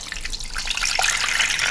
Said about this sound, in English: We're just gonna put about half a cup of water in the bottom.